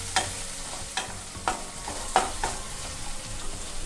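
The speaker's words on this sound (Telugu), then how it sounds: "అల్లం వెల్లుల్లి పేస్ట్ వేసుకొని కలుపుకోవాలి." Ginger garlic paste stir-fried in a pan for leftover egg rice, a steady sizzle broken by regular scrapes of the spoon about every half second, close and fairly quiet.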